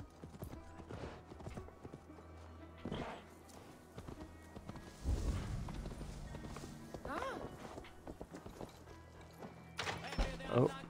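Horse hooves in Assassin's Creed Valhalla clop in a steady, unhurried rhythm, close and moderately loud, over low game ambience and scattered effects.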